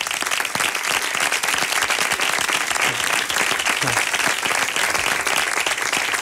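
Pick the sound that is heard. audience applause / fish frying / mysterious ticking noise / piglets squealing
audience applause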